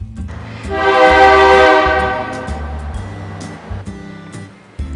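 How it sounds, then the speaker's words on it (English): A real train passes on nearby tracks, its horn sounding one loud, sustained blast that swells and fades over a couple of seconds above a rhythmic low clatter of the train rolling by. "when a real train passes on the tracks nearby, the sound, and sometimes the vibrations, really add to the experience of your visit"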